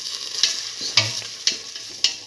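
Salted ginger frying in a pan while being stirred, a constant close sizzle broken by four evenly spaced scraping strokes of a spatula against the pan.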